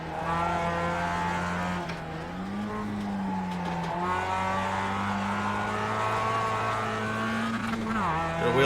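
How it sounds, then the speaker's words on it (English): A Mazda MX-5 Cup race car spins its wheels at Summit Point in iRacing, its engine droning steadily with pitch swings and tire squeal, while someone talks over it. "Got a wheel spin there."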